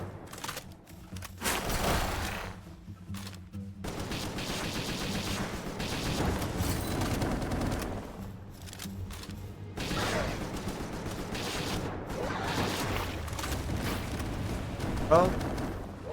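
Gunfire from a gun in the video game Palworld, with sustained bursts of shots and rumbling blasts over about sixteen seconds, heard under a player talking.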